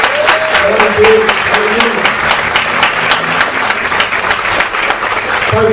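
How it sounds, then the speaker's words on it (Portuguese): A church congregation applauds Jesus during a Sunday testimony service, loud rhythmic clapping from many people, steady and fast, with voices and sustained tones mingled underneath. "Olha, aplaudir Jesus."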